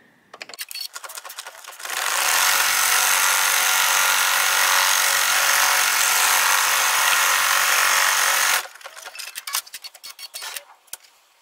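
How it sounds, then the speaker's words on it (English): An embroidery machine stitches a tack down line on a pie tote project, giving a dense, fast mechanical buzz that runs steadily for several seconds between quieter ticking and clicking of the machine before and after. "Next, we're going to stitch the tack down line."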